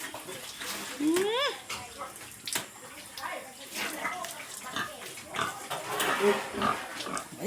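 Large pigs grunting and snorting as they drink water on a farm, with splashing and people chatting nearby throughout.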